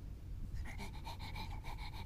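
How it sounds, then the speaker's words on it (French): A dog pants rapidly in a steady rhythm of short, breathy puffs, fairly close and quiet against low rumbling ambience in a park. "Le chien est adorable, on l'entend d'ici."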